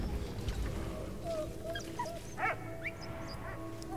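A dog in the Valiant Hearts: The Great War video game gives a few short yips and whimpers, moderately near, over a busy background of game music and ambience.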